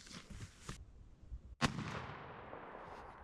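A 20 gauge Remington shotgun fires a single sharp blast outdoors, with a booming report that decays into a rumbling echo.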